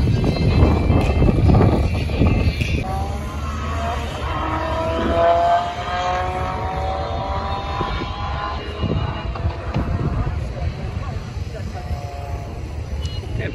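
Cars drag race at a flashlight drags event, engines roaring and revving at a distance under a steady outdoor rumble, with people talking nearby throughout.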